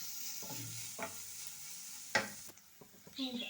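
Sliced onions sautéing in a pan with salt for masala puttu, a quiet steady sizzle broken by several scraping stirs of a spatula, close and without talking.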